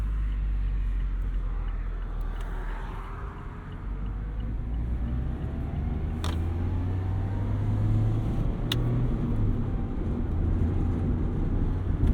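A 2024 Mazda MX-5 Miata RF convertible on a backroad at sunset, a steady low engine and road rumble with wind noise that swells slightly partway through, continuous and close, with no talk.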